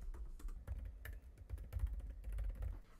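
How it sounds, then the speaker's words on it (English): Typing on a computer keyboard at close range, a quick, uneven patter of soft key clicks and thumps running steadily for a few seconds with no talking. "I'm just going to type in First Day of Kindergarten."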